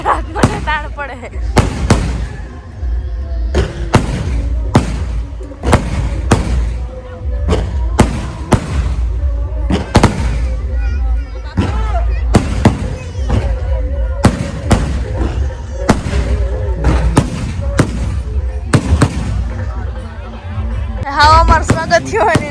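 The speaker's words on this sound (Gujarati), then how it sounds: "હા અમારું સ્વાગત થયું હોય ને વાર આવ્યા હતા ફટાક્યા છે ફૂટવાનું ચાલુ થયા" Firecrackers burst repeatedly at a traditional village Garba celebration, loud sharp bangs in an irregular volley, close by, with people talking and shouting between the blasts.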